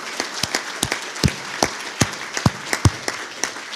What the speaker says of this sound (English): So please, ladies and gentlemen, a big round of applause for Ruth and for Roddy.